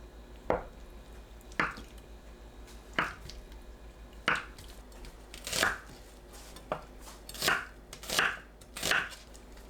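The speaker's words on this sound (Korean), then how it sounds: "두부, 양파를 한 입 크기로 썰어주세요." A knife cuts tofu and onion into bite-size pieces on a cutting board, giving about eight crisp, soft chops at irregular intervals, close and fairly quiet, with no talking.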